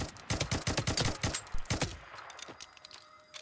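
Suppressed gunfire in the video game Days Gone: a quick run of muffled, evenly spaced shots fired in rapid succession, then trailing off into quieter scattered noise, close and moderately loud with no voices.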